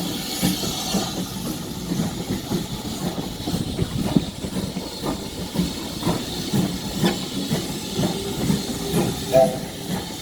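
Goliath, a steam locomotive on the Dartmouth Steam Railway, hisses steadily nearby with soft mechanical clanks and faint rail clicks under the steam.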